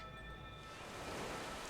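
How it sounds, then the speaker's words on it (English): Rain and fog in the video game Atlas, a soft steady hiss of falling rain with a faint low rumble, quiet and continuous without voices. "And it is foggy and raining, so we're going to wait."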